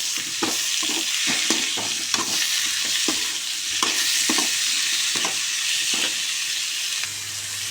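Sliced radish sautéed with turmeric powder in a pan hisses and sizzles steadily, with repeated scraping and tapping of a spatula stirring it up close, no voices.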